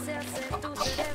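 Chickens cluck in the video game Minecraft, a short burst of a few clucks close by over a soft background.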